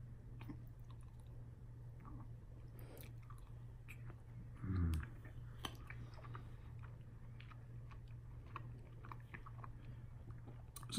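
Someone chews a bite of pizza from a Groveland, California pizzeria. The chewing comes in soft, close, intermittent bursts over a steady low hum, with one louder crunchy bite partway through and no talking.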